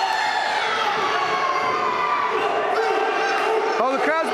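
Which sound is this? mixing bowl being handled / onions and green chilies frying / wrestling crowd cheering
wrestling crowd cheering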